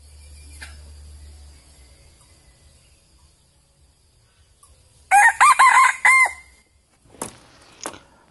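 A jungle fowl decoy rooster crows loudly at close range after a quiet stretch with a low hum, followed by a couple of short clucks.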